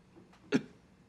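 A single sharp hiccup, brief and fairly close, preceded by a faint breath, with no talking around it.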